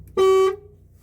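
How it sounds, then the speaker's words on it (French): A truck horn sounds once during a heavy-vehicle licence check: a single loud, steady blast of about a third of a second with a strong tone, followed by a brief fading tail. No one speaks. "vous allez pouvoir actionner l'avertisseur sonore. Donc j'appuie au bout."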